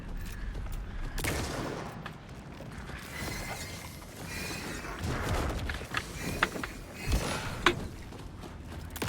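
Rifle and pistol shots ring out in the video game Alan Wake 2, a handful of sharp reports among clanking mechanical sounds and dense game ambience, moderately loud.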